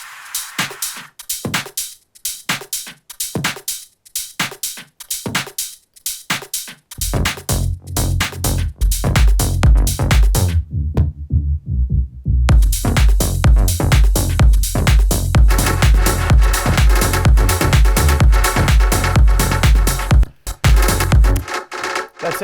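Mainstage-style electronic dance track builds from sparse punchy hits into a full beat with hi-hats, claps, percussion and effects, heavy bass pulses kicking in, a brief breakdown, then a loud driving groove.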